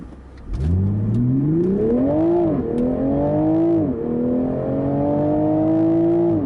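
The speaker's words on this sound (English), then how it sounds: "let's do a nice acceleration from a stop here in Sport Auto" A 2021 Toyota GR Supra in Sport Auto mode accelerates hard from a stop, its engine note rising steeply through the revs, dropping at each of two gear changes and then climbing again, loud and close.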